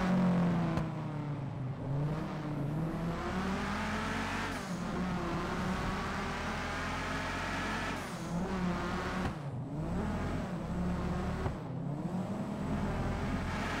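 Modded car exhaust in GTA 5, a steady loud engine drone with revving swells and a few sharp dips where pops and backfires break through, continuous and close throughout.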